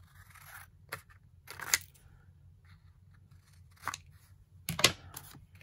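Scissors trimming off a crinkly paper edge, several quiet crisp snips and rustles spaced irregularly at close range in a quiet room.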